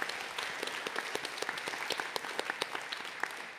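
Audience applause at a live music session at the Green Door Store venue in Brighton: a dense patter of many hands clapping, fairly steady and moderately loud throughout with no talk over it.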